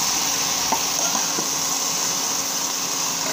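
Vegetables sizzle in a frying pan for a vegetarian dish, a steady close hiss with a few soft clinks of stirring, no talk.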